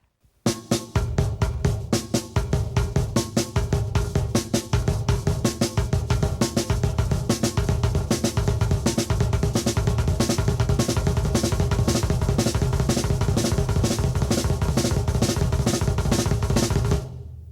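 Drum kit playing a sextuplet pattern of two hand strokes followed by four double bass drum kicks, a dense, loud, steady rhythmic groove repeating continuously for the whole stretch without talk.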